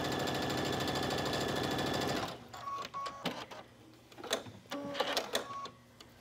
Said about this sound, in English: Stitching the armhole in place.